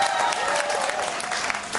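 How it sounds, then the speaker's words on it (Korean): Audience applause for a female drummer introduced at a band's regular concert, a dense, moderately distant patter of clapping lasting a couple of seconds without pause. "박수 한번 부탁드립니다."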